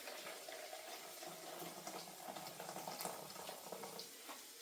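Tap water running into a container to fill just under a litre for a bacon and mushroom risotto, a faint steady splashing stream heard alone throughout.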